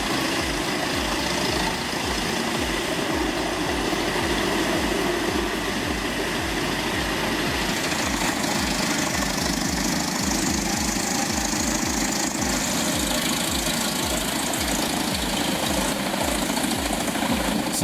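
A Comtech Chippo 8210C drum chipper driven by a 780 HP Cat engine runs loud and steady, its heavy rhythmic low chugging and dense mechanical roar continuing throughout with no voices.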